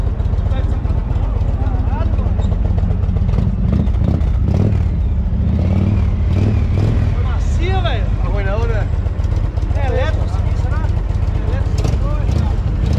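An Indian Roadmaster motorcycle engine rumbles and revs nearby at the Moto Brasil 2024 festival, loud and steady, while people talk over it.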